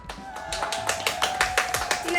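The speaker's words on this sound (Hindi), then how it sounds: "कमेंट के लिए तालियां।" A single person clapping in a quick, even rhythm of about a dozen close, sharp claps, with a voice faintly present underneath.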